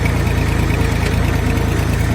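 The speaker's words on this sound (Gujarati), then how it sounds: "આ રીતે હાકે છે ટ્રેક્ટર ટાયર તમે જોઈ લ્યો" A tractor engine runs while a field is ploughed, giving a loud, steady diesel drone with a continuous throbbing rumble. It stays close and unbroken the whole time, with no talking.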